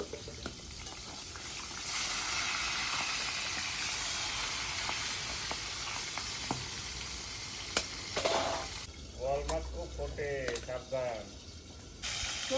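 Salt-and-turmeric-rubbed boal catfish fries in hot oil for a Bengali village-style curry, giving a quiet, broad sizzle that fades. A voice talks over the later part.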